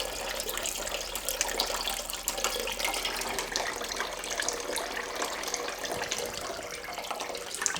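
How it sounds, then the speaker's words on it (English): Water drains out of a directional-freezing clear ice mold, a steady close splashing trickle and gush that runs without a break, with no one speaking. "So as you can see, it's just draining naturally."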